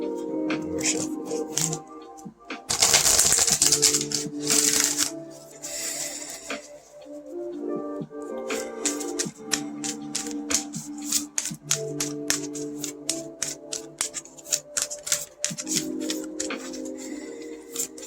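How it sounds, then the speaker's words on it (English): A deck of tarot-style reading cards is shuffled by hand over several seconds, with bursts of riffling and soft slapping of cards, close and fairly loud, with a faint tonal music bed underneath. "More shuffle."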